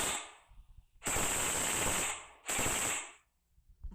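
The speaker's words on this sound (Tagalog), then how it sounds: "Machine gun sound effect." A machine gun sound effect fires in two long rapid bursts with a faint rattle before them, loud and harsh, then a quick fade to near silence.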